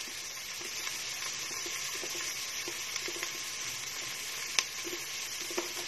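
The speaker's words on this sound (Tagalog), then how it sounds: "Ayan lang po muna natin sandali para magkatas talaga yung bawang." Chopped garlic frying in a pan, giving a steady, soft sizzle with scattered small pops and crackles, fairly quiet and with no voices.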